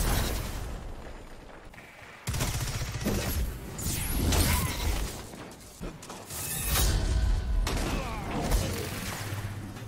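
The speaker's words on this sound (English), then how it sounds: "Excuse me while I use my scout rifle." Scout rifle gunfire in a video game, a series of sharp, loud shots with mechanical clicks and whooshes between them, irregularly spaced across the stretch, with a faint voice here and there.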